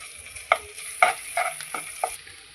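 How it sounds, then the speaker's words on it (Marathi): Ginger garlic paste and crushed green chilli sizzle in hot oil for pav bhaji, a steady close frying hiss broken by several sharp clinks of stirring. "इथं आपल्याला तेल गरम झाल्याच्या नंतर हे अद्रक लसूणची पेस्ट टाकायची आहे"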